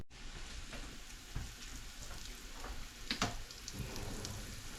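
Soft, steady sizzling of snapper fish nuggets frying in oil, with a few crackling pops, close and low in level.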